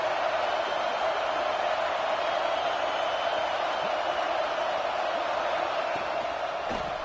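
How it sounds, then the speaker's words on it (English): A college football stadium crowd in a game against Clemson builds into a loud, steady roar on third down, a dense continuous wash of noise held throughout. "Decibels rising as the crowd gets behind this defense on 3rd down."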